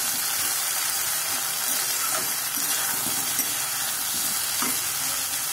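Vegetables cooking in a pan with cumin seed tempering, green chillies, turmeric and salt sizzle loudly and steadily, with occasional soft stirring scrapes, close up and without talk.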